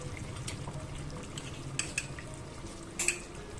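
Slow stirring of Kerala-style coconut fish curry with curry leaves in a pan, village cooking: soft scraping and a few light utensil clinks against the pan, low and steady, with occasional sharper taps near the end.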